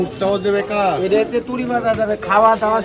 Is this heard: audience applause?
no